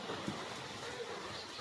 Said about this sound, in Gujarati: જો ફૂલ વરસાદ ચાલુ થઈ ગયો મારે અહીંયા